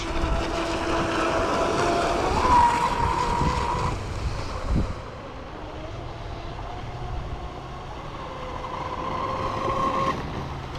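A ProBoat Blackjack 42 RC speedboat whines steadily across water, a high buzzing engine tone with wind rushing over the microphone throughout.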